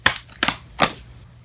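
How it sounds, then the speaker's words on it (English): Three quick crisp riffling bursts of tarot cards being shuffled, close by and fairly loud, with short pauses between them. "we're going to shuffle one more"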